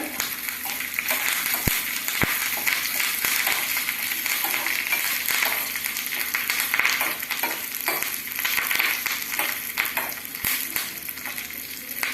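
Curry leaves crackle in hot oil alongside green chillies and ginger in a tempering for lemon poha. A steady, close, loud sizzling hiss runs throughout, broken by a few sharp utensil clicks, with no voices.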